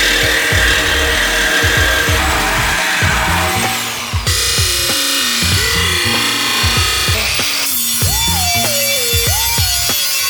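A power tool cuts off a part of a Chevy C10 squarebody truck in repeated short bursts, its motor revving up and down with a whining, rising pitch, loud and close.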